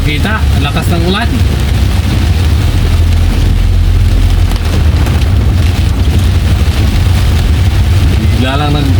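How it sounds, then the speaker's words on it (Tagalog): Heavy rain batters a vehicle steadily and loudly near Camp Aguinaldo, with a deep rumbling wash throughout and a voice briefly heard at the start and end. "Ang lakas ng ulan."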